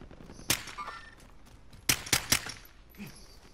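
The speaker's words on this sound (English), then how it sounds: "Who are you shooting at?" Gunfire in the video game Call of Duty: Modern Warfare, with one sharp shot early on, then a quick burst of three loud shots and a fainter one near the end, all over a low background hiss.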